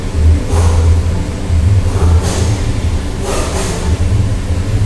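A 2006 Ford F150 with the 5.4 engine, broken timing chain guides and low oil pressure, runs with a steady low rumble up close, broken by a few brief rattling bursts.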